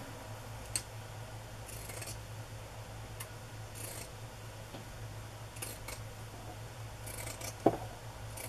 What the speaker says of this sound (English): I'll use my pinking shears to cut the other edge.